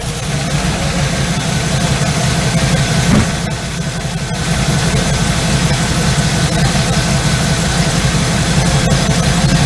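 A car engine fitted with an Edelbrock carburetor idles steadily with a low, rumbling vibration, close by and continuous, with a brief dip partway through.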